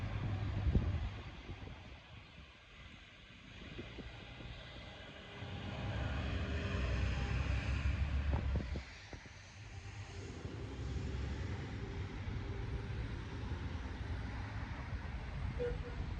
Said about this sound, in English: getting a little windy out here